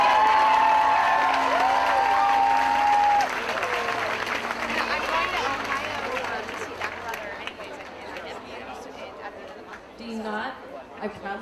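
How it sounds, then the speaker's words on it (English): Applause for graduates at a 2006 university commencement ceremony: a large crowd claps and cheers, loud at first and then thinning into scattered clapping and chatter as a voice carries on over it. "Let's get a big round of applause for the graduates of the MPA program."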